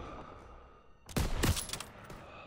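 Machine gun fire in the World War II shooter Call of Duty WW2 erupts as a sudden burst of rapid, loud shots over a busy battlefield background.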